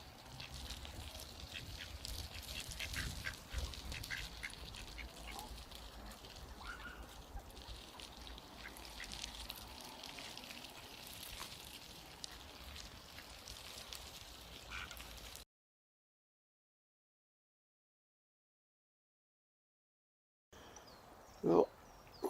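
Ducks quack by a river, scattered calls over steady outdoor background for about fifteen seconds, then a gap of silence before a brief louder burst at the end.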